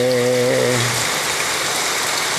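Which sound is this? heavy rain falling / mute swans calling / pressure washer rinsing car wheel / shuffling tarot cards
heavy rain falling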